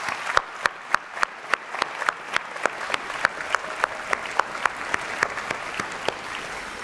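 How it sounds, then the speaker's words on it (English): Audience applause at a George Mason University commencement, honoring graduates' parents, friends and relatives: a sparse, steady pattern of individual claps with regular sharp peaks, sounding fairly near and thin rather than a full roaring crowd. "I invite you now to give them a big round of applause for the roles they played in helping you get here"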